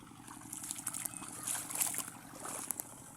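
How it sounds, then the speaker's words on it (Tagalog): Irrigation water trickles and splashes softly onto watermelon plants in a hot field, a quiet, steady flow with small splashy bursts and no talking. "nagpapatubigan ko itong aking pakuwan."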